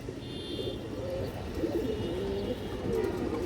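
A domestic pigeon coos softly in a loft, low rolling calls repeating under faint background noise with other birds barely audible.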